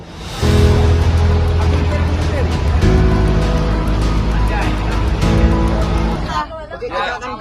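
A bus engine rumbles low and steady while riding, with a dense hum of passengers chattering throughout and a few knocks and rattles before the sound thins out near the end.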